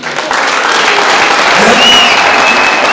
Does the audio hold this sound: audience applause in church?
yes